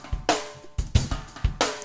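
Dry recorded drum kit with room mics and overheads played back, sharp hits roughly every half second with kick thumps and bright crashing snare or cymbal strikes, close and punchy with no talking.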